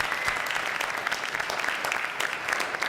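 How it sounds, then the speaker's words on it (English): An audience at a 2014 college elevator pitch competition gives a round of applause, with dense, steady clapping from many hands filling the room for a few seconds. "Yes, round of applause."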